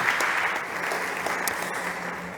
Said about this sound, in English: Big applause to Fernando.